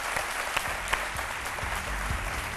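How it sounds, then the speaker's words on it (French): Studio audience on a French midday TV show claps loudly and continuously for a guest, a thick wash of hands with occasional sharper claps and low murmuring beneath. "je vous demande d'applaudir très très fort"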